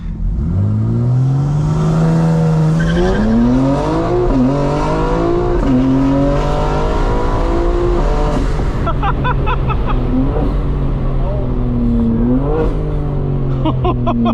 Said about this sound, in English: A little bit of wheel spin, you heard of it?